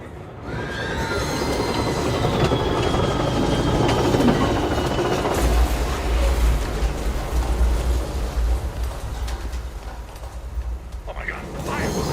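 A train clatters steadily along rails in the video game Alan Wake / Control, a continuous rumbling roll with a faint metallic squeal, while voices talk over it.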